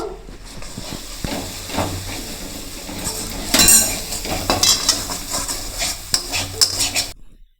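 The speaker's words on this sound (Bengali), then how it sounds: "এগুলো সব ভালোভাবে একটু নাড়িয়ে নেব" Green chili paste, cumin powder and coriander powder stirred in a hot pan for Bengali kasundi aloo dum, with scraping spoon strokes and clinks against the metal over a soft sizzle, close and busy.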